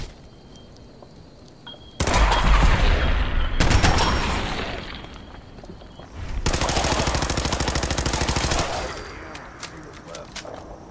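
Modded weapon firing in Fallout 4 against tougher enemies: two long, loud bursts of rapid automatic gunfire with dense repeating shots, plus a short crack between them, over a low game ambience.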